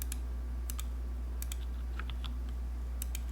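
Sparse keystrokes on an HHKB keyboard fitted with H1 switches, a few scattered clicks and short bursts over a steady low hum from a nearby fan, fairly quiet with no talking.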